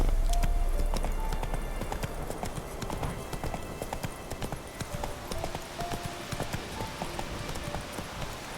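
Horse hooves clip-clopping steadily in the video game The Witcher 3: Wild Hunt, a brisk even rhythm close up over a dense background bed.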